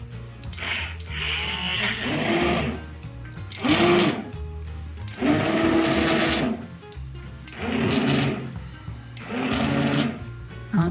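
Immersion blender whirring through pumpkin soup in bursts: five loud motor runs of about a second or two each, separated by short pauses, close and alone.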